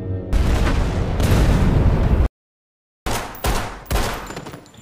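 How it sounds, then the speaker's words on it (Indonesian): Grenade blasts and heavy gunfire from an action film battle against a squad, loud dense bursts of shooting and booms, a sudden cut to silence, then several sharp separate explosive hits. "dengan beberapa granat yang dibawanya, Ray pun berhasil meluluh lantahkan pasukan tersebut sampai benar-benar kacau"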